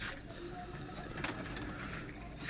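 Racing pigeons coo faintly under a steady hum of background noise.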